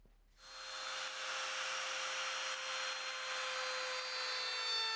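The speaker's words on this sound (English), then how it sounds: "I'm drilling out a hole to start with" A router fitted with a bit overextended too far cuts into wood. It spins up quickly and then runs as a loud, steady whine close by for several seconds, with no voices.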